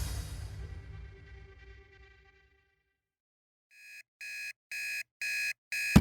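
After a fading musical tone and a stretch of silence, an alarm clock starts beeping at 3 a.m. in loud, evenly spaced electronic pulses that grow louder, five bursts in a row.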